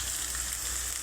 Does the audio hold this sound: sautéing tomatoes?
yes